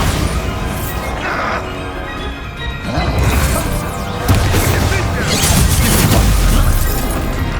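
A Bombarda spell explosion in the video game Hogwarts Legacy: loud crashing, booming blasts amid dense battle noise and music, with shouted spell voices throughout.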